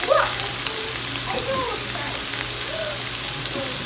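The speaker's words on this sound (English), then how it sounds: "I'm gonna put the shrimp in to fry with the onion and garlic and scallion" Shrimp frying in a pan with onion, garlic and scallion, a loud steady sizzle close up with a few brief tonal squeaks over it.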